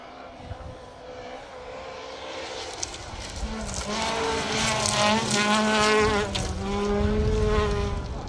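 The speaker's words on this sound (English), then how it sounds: "Great engine note, haven't they, in those Peugeots." A two-wheel-drive Peugeot 208 Rally4 rally car on a gravel forest stage, its engine note rising and sweeping in pitch as it approaches and passes close by at speed, growing louder over several seconds.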